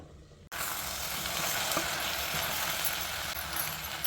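Okra upkari sweetened with jaggery fries in a pan in Mangalore style, a loud continuous close sizzle starting abruptly after a brief quiet moment and holding steady, with faint stirring clinks and no voices.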